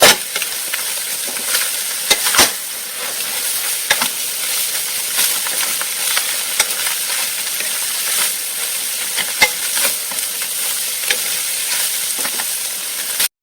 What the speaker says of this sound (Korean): 부추를 넣고 숨이 죽을 때까지 팍 계속 저어줘야 돼요